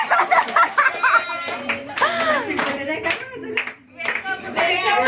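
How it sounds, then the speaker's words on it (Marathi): Family members clap their hands in a rapid, steady burst to welcome a newborn baby girl at home, the applause close and continuous while a voice and cheerful chatter run over it. "टाळ्या वाजवा"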